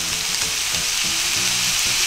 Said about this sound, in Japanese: 軽くね、炒めるんですよ